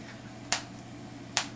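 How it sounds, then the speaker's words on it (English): A barred owl snapping its beak defensively while being handled during treatment, two sharp, distinct clicks about a second apart over a quiet room hum. "he's clapping his beak as a defense mechanism, because obviously he doesn't like me handling him."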